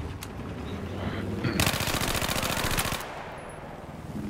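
A light machine gun in a video game rattles off a long, rapid burst of shots lasting about a second and a half, loud and close, after a few scattered sounds.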